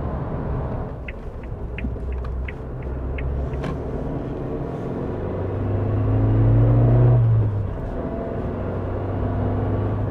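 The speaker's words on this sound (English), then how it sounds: "The engine produces a nice little note, although it is a little bit rough in my opinion." Idling and gently revving four-cylinder engine of a 2019 Suzuki Jimny, a steady low rumble that swells briefly and settles, heard close from inside the car with a slightly rough note.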